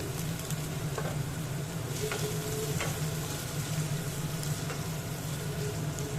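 Small pieces of potato sizzle steadily in a hot pan with spices, a soft, even frying hiss with a few faint stirring scrapes, close and unbroken by any voices.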